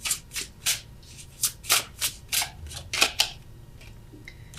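Tarot cards are riffled and drawn from the deck in a series of quick, close papery flicks and shuffles, about a dozen bursts with short pauses.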